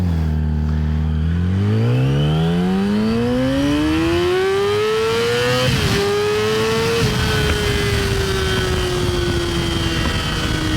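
A high-revving Yamaha R6 600cc sport motorcycle engine climbs steadily past 12,000 rpm to a loud, screaming peak, shifts, then holds a sustained howl, close and continuous.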